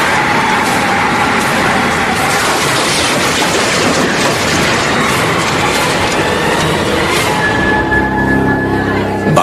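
A fast bus approaches along a main road, a steady, loud, dense rumbling roar with rattling, used as a sound effect in a dramatized audio story.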